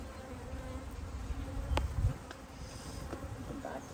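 Honey bees buzz steadily around a top bar beehive outdoors on a calm day, a soft continuous drone with a brief louder swell as a bee passes close.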